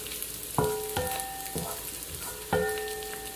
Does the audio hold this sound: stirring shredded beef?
yes